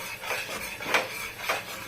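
Ridge gourd and eggplant stirred in a pan, three soft scraping strokes of a spoon against metal at an unhurried pace, close and fairly quiet.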